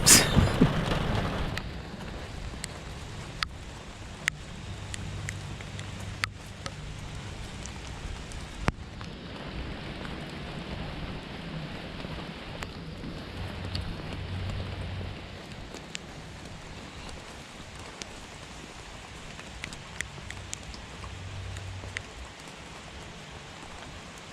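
Steady rain pours down around a car while a driver heads out on a delivery run, a constant broadband hiss with a few sharp drop impacts and low rumbles, close and continuous with no talking.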